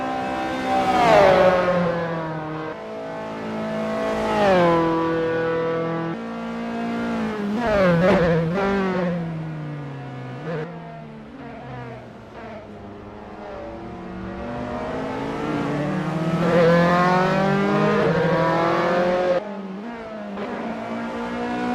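A Dallara F312 open-wheel race car in the racing game Assetto Corsa wails through rising and falling revs across repeated gear changes, a loud, close, high-pitched engine note with no talk.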